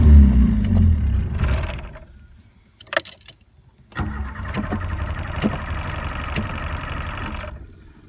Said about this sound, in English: As the last of the fuel in the Carby is burnt, the car will accelerate as normal, but as soon as it runs out, the power will dip